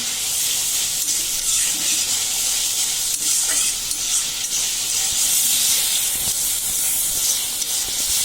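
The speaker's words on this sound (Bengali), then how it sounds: "মশলা কষানো শেষ।" Spice masala for rohu fish curry being sautéed, a dense, loud, hissing sizzle that holds steady throughout, with occasional faint stirring scrapes and no speech.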